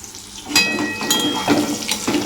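Pointed gourd (potol) slices frying in oil in a pan, giving a soft sizzle broken by several sharp stirring or turning bursts, close and moderately loud, with no talking.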